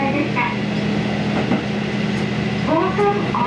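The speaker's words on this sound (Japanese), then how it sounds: "そのため列車の進行方向を変えながらスイッチバック運転を行っています。" A train works up the Tateno switchback line, reversing direction to climb a steep 190-metre rise; a steady, moderately loud rolling rumble with faint squeals near the end.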